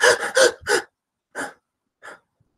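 A voice imitates Cheyne-Stokes breathing with a run of quick, loud, gasping breaths that slow and fade into silence, then two weaker, widely spaced breaths, heard close and alone.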